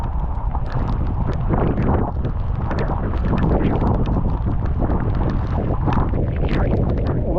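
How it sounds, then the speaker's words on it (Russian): Hurricane Milton wind roaring steadily in strong gusts, buffeting the microphone with loud, continuous broadband rumble and rattling for the whole stretch, close and harsh, with no speech. "Наверное, это ураган."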